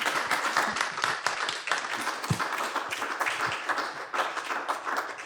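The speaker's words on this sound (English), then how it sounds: "Please give one more round of applause for our guest, Mr. Morton Paley" An audience at a poetry presentation applauds its guest speaker, with steady, dense clapping from a roomful of people held at moderate loudness throughout.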